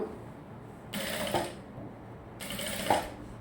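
A sewing machine stitches a short gown's neckline in two brief whirring runs of about half a second each, close by, separated by a short pause.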